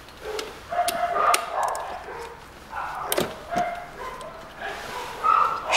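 Neighbours' dogs bark outdoors at middle distance, several uneven bursts of barking and yipping with quiet gaps between, during work on a 2007 Toyota Avensis 2.0.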